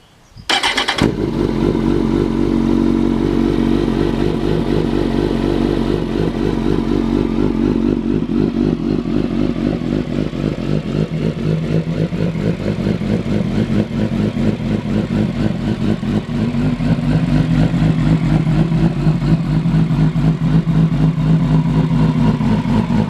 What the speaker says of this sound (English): that's the race fit Growler exhaust